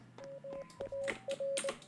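Morse code from the video game Neko Infection plays as a string of steady electronic tone beeps, short and long pulses in an irregular pattern, fairly quiet, with faint other sounds behind.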